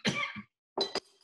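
A man coughs in an indoor talk setting: one long harsh cough, then after a short pause a pair of quick, close coughs, heard alone without speech.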